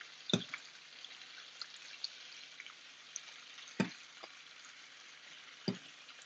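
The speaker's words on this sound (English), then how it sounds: "So we're gonna allow these to fry up and get a nice golden color." Beef and pre-cooked shrimp frying in a pot for scampi, a faint steady sizzle broken by a few sharp pops and spatters.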